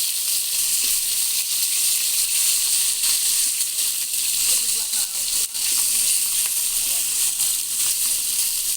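Fish frying as a bhuna with onion and tomato gives off a steady, close sizzle and hiss throughout, broken by a few faint stirring scrapes.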